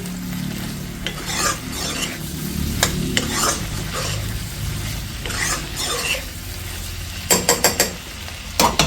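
Ginger garlic paste and potatoes fry in a pan for Assamese-style mutton curry, with a continuous sizzle under repeated scraping stirs and a few sharp knocks near the end.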